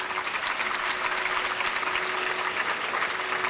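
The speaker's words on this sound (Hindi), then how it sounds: "मैं ताली बजाता हूं।" Sustained applause from a large audience of students in a school assembly in Haryana, dense steady clapping throughout with no talk over it.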